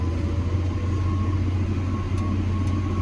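A Lada 2109 pulls away and drives straight ahead, its engine a steady, close, low droning rumble from the cabin, with no talk over it.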